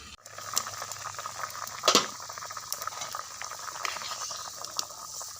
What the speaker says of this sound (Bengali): এটাকে চাপা দিয়ে ফুটতে দেব যতক্ষণ না ফুটে আমড়াটা সেদ্ধ হয়ে যায়।